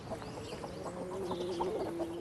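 Hens clucking near chicken huts on a quayside in late October, a steady cluster of soft, close clucks and calls over light outdoor background noise with no talking.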